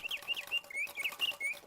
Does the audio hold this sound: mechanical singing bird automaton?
yes